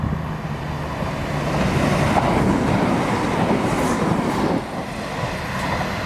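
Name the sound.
two Turbo diesel passenger trains passing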